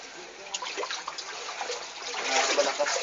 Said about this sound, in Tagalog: Malakas na pakalakas yung current dito.